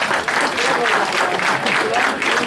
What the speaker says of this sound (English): Another round of applause for everyone.